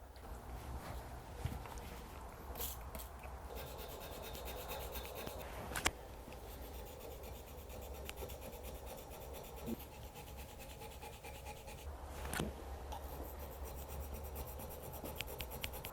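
Flat sides of a Scandinavian-grind knife are polished with a steady, quiet rubbing and rasping, punctuated by a couple of sharp clicks or knocks, close and alone.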